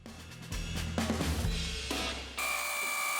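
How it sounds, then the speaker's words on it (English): A CNC router with a 135-degree bevel bit whines steadily as it cuts a white oak slab, its pitch and load shifting as the bit moves, ending in a higher sustained tone. "Got this sweet 135-degree bevel CNC router bit to create my river"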